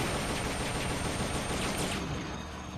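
Rapid bursts of rifle fire crackle in MGS Peace Walker, a dense, continuous volley of game gunshots aimed at an enemy's boosters, steady and loud for nearly three seconds with no speech.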